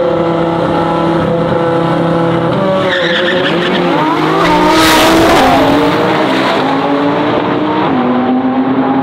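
A BMW M4 and an Audi R8 roaring close by in a drag race at a street car meet, engines revving through rising and falling gear shifts, with tires squealing amid the loud continuous engine noise.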